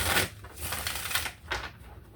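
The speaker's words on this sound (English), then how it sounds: "Shuffle up a couple cards." Tarot cards are shuffled in a few quick riffling bursts, crisp papery flutters separated by short pauses.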